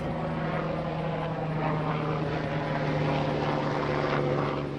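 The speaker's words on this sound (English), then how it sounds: "It's a helicopter." A helicopter flies overhead, and its steady droning rotor and engine noise holds at a fairly even, moderate level throughout with no talking.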